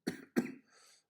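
Two quick, close coughs in a row, followed by a short breathy exhale, with no talking.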